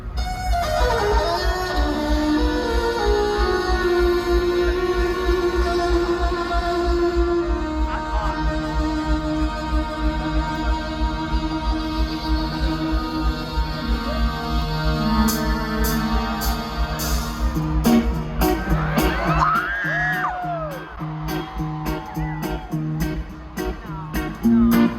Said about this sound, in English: I am going to play the full intro clip because it was gorgeous